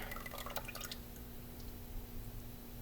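Kefir curds and whey are poured from a glass into a nylon strainer, giving a faint trickle with a few quick drips early on, then a soft, continuous low wash.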